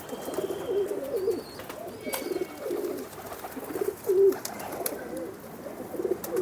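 Domestic pigeons in an old Jammu city loft cooing in soft, repeated low phrases, close by, with occasional rustles and faint background noise.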